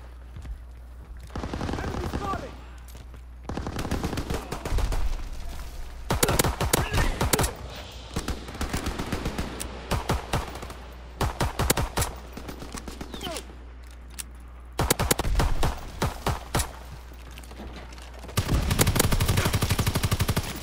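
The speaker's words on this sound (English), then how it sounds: "I was shooting at him the entire time and I emptied every clip in that I had in my pistol" Pistol and other gunfire in the WWII-era shooter Call of Duty WWII: clustered bursts of sharp shots in uneven volleys separated by short lulls, loud and close, with faint game voices between.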